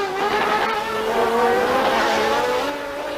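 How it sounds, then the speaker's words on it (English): A Formula 1 race car at the Phoenix United States Grand Prix accelerates out of a corner, its engine whining loudly and climbing in pitch, with a slight stuttering roughness from a misfire. "There's a little misfire from Senna's car as he accelerated out of the corner."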